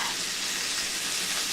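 Breaded Southern-style pork chops fry in a skillet of hot oil with a steady, bright, continuous sizzle, close and fairly loud throughout, with no talking.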